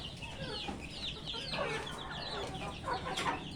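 Several chickens cluck and squawk close by in short overlapping bursts while fighting a large rooster, its call rising now and then against a low background hum.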